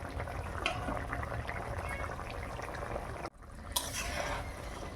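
Fish curry gravy bubbles in a pot with a steady, dense simmering hiss and a few small pops, close and continuous, briefly interrupted by a sudden dip before the boiling resumes.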